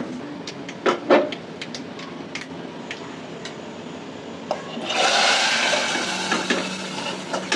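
Garlic, mustard seeds and two dried chillies go into hot oil as a tempering for sweet pumpkin khatta: scattered sharp pops and crackles, then a sudden loud, sustained hissing sizzle close by.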